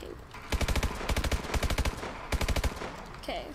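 Gunfire in a video game rings out in quick bursts of rapid, evenly spaced sharp shots, three clusters close and loud, with a brief voice in the gaps.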